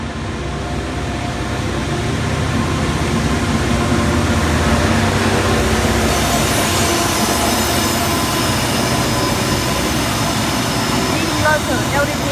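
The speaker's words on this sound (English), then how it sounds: "we have a Waratah arriving onto platform 1 central service" Sydney Waratah electric train rolling into platform 1 at Eastwood station, a loud steady rumble and rail whine filling the space with faint chirps near the end.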